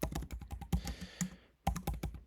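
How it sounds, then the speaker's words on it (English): Quick keystrokes tap on a computer keyboard as a name is entered, a close, quiet burst of clicks with a brief pause before another run of typing. "I'm going to type in my name,"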